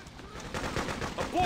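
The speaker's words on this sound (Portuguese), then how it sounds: "Muito boa a submachine gun" Rapid submachine gun fire in the Freedom Fighters video game, a dense burst of shots close up with speech-like game sounds mixed in, growing louder toward the end.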